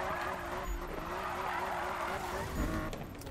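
A car drifting in the Need for Speed racing game, its engine droning steadily while tires hiss and squeal through a long slide, heard under the faint sounds of a player.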